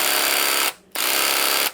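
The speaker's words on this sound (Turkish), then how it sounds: "Bu da tike kuyruğu testeresidir." A KL Pro cordless reciprocating saw runs in two loud, steady buzzing bursts, separated by a brief pause and ending abruptly.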